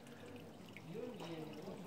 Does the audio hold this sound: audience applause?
no